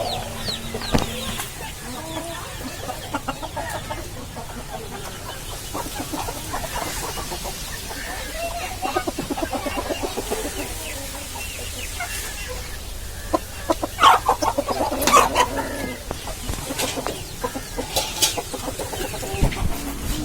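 Chickens cluck steadily throughout, a low murmuring chorus nearby with occasional sharper squawks and faint background noise.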